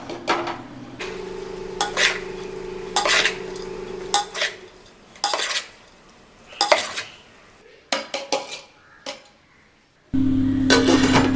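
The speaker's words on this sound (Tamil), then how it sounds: "மசாலாவில் ரைஸ் நல்லா மிக்ஸ் பண்ணிவிட்டு இப்போ நம்ம தம் கொடுக்க சாப்பாடை வச்சிடலாம்" Metal spoon scraping and clanking against a pot while cooked rice is mixed into chicken biryani masala, in repeated bursts of stirring with a steady low kitchen hum underneath and no voices.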